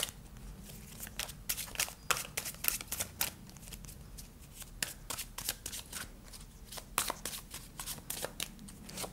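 Tarot cards being shuffled, a dense run of quick riffling slaps and flutters close by, steady throughout with no talking.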